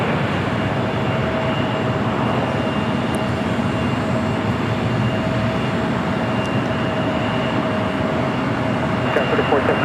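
Steady loud roar of a jet airliner on the ground at LAX airport, continuous broadband engine noise with a faint steady whine running through the whole stretch.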